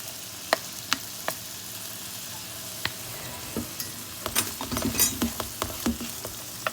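Rice tipped into a pan and stir-fried for chicken fried rice, with a soft sizzle under scattered scrapes and clinks of the spoon that grow busier toward the end.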